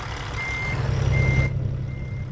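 A truck backing up in American Truck Simulator gives steady, evenly spaced reversing beeps over a low idling engine rumble. The beeps are clear and close, with no talk.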